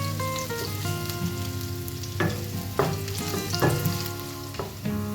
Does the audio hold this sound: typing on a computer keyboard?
no